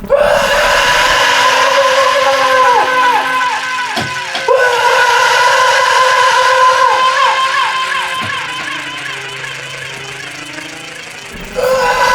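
A person screams and wails through distortion in a harsh noise performance, with a long, loud, ragged stretch of repeated howling tones over rattling noise, a brief break near the middle and an abrupt cutoff.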